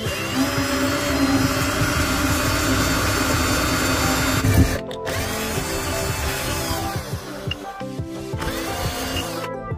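A power drill bores a hole into the tip of a stainless steel fork, a loud steady whine that cuts out abruptly midway, then quieter grinding and intermittent drilling bursts follow.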